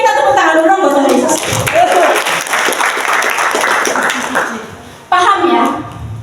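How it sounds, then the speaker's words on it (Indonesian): A congregation at a Sunday church service bursts into several seconds of dense applause with voices and children mixed in, then the clapping fades as a voice resumes speaking over the room. "kita tepuk tangan dulu buat Tuhan Yesus"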